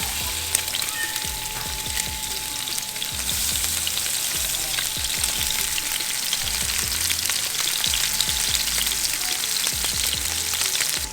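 Snowy grouper fillets sear in hot oil in a hot non-stick pan, giving a loud, steady crackling sizzle with scattered pops that runs unbroken the whole time, with no voices over it.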